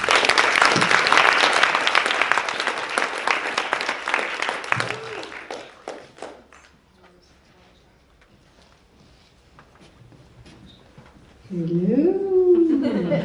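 Audience applause welcoming a speaker to the stage at a NEDx 2019 talk, loud sustained clapping that fades over about six seconds into scattered claps and quiet, then a voice begins speaking.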